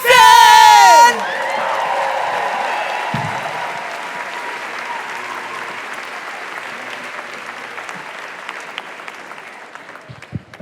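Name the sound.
audience applause for comedian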